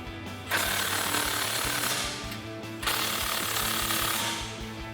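A powered ratchet or impact tool with a 13mm socket tightens an exhaust hanger clamp on a cat-back exhaust install, giving two loud sustained rattling bursts of about two seconds each, close up, with no talking.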